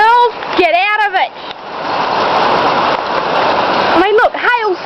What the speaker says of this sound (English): when we get rain, we get rain.